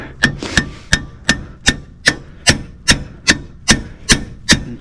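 Steady hammer blows ring out on a seized wheel bearing hub of a Land Rover Defender, struck to shock it loose on its splines; about a dozen sharp metallic impacts land in an even rhythm, close and loud, with no talking.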